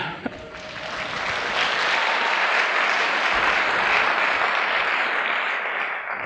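A conference audience gives sustained, dense applause that swells and holds for several seconds at close range, with no speech over it.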